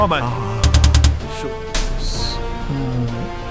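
A quick burst of rapid game gunfire in a first-person hostage-rescue shooter, several sharp shots in a row, followed by a heavy low boom and electronic effects with background music.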